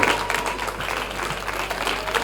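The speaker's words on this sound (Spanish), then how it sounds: "vamos a recibir con un fuerte aplauso a Miguel González" A crowd applauds to welcome Miguel González at a talk on technical production for tours and festivals, continuous, fairly loud clapping that stays even from start to finish over a low background hum.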